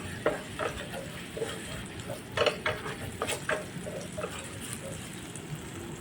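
Garlic shrimp stirred in a pan after tomato sauce goes in, with light scraping and soft clinks of the utensil over a low steady sizzle, a few sharper taps scattered through the stir, close and fairly quiet.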